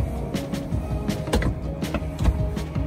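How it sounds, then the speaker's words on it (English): The electric roof motor of a 2016 Mazda MX-5 GT convertible hums steadily at moderate volume, with faint clicks and mechanical knocks as the roof moves. "It is the quickest convertible roof possible."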